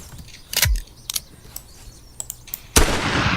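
Three gunshots from a modded firearm in a video game: sharp cracks spaced out, the last one loudest with a lingering rushing tail, along with quieter mechanical clicks between shots.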